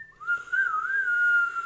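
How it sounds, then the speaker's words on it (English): A person whistling on an inhale, one sustained, wavering high tone that slides and wobbles slightly in pitch, close and alone with no talking. "You're whistling on an inhale."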